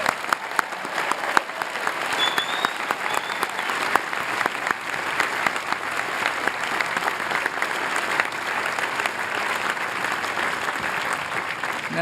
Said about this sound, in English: Let's have a big round of applause for the class of 2014.